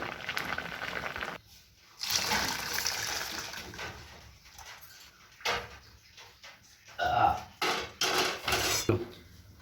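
Boiled potatoes are drained through a metal strainer in a kitchen: water pours and splashes in bursts, with clanks and scrapes of the pot and strainer, near and moderately loud.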